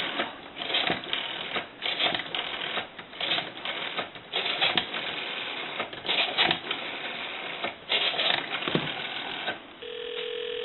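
Dialing on a repaired Western Electric French style telephone: quick bursts of mechanical clicking arrive in repeated groups separated by short pauses, ending in a brief steady tone.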